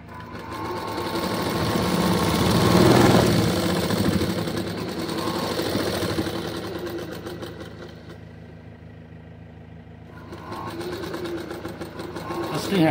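An electric sewing machine stitches the hands of single-layered umbrella sleeves, running in a steady mechanical whirr that swells and eases over several bursts, close and fairly loud, with brief pauses near the end.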